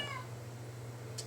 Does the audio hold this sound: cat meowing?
yes